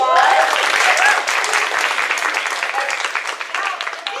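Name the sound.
audience applause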